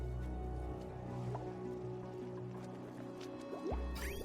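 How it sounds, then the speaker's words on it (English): Hot water pouring and filling an enclosed area in the colony-building game Oxygen Not Included, a steady liquid gurgle with soft drips and trickles over a low hum, moderately faint and without speech. "Then we'll start just filling this area up with hot water."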